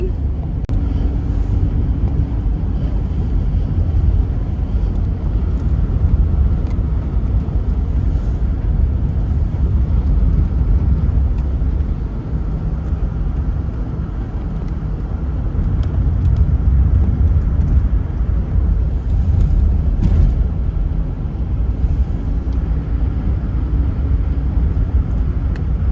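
A car drives along the road on a commute to work, its steady engine rumble and tire roar filling the cabin with constant low noise and occasional wind buffeting, no talking.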